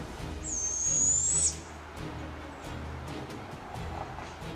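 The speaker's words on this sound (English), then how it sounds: "The barred owl is a large owl found all over North America, usually in forests and woodland." A barred owl gives a single loud, sustained call that rises and holds for about a second, then stops, leaving a low steady background hum.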